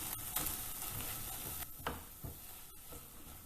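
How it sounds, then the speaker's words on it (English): Eggplant stuffing with kasundi is stirred and mashed in a pan, giving a soft, continuous sizzle with scraping and squishing, broken by a few louder spatula knocks. It is faint and close, and no one speaks. "Mix everything well. Mash it up as you go along."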